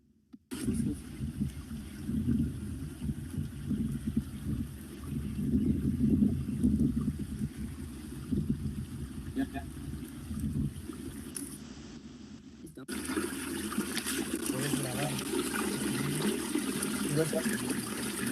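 Stream water runs steadily through a trapezoidal weir, a continuous low rushing and trickling heard from nearby, with a brief break before the flow resumes louder and brighter.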